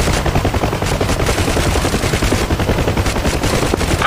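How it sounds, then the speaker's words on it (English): Door gunners aboard a helicopter in the DCS World video game fire continuous, loud machine-gun bursts, a dense rapid rattle of shots over a steady rotor rumble, close and without pause. "my gunners are shooting at something"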